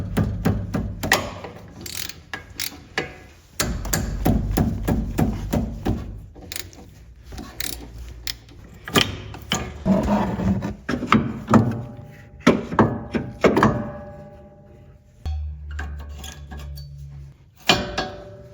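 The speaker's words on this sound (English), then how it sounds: "you're going to take off your 2 bolts on the back here" Ratchet clicks and metallic clatter come in irregular bursts as 12 mm brake caliper bolts are loosened and removed on a 2005-09 S197 Mustang GT, close and fairly loud with short pauses between.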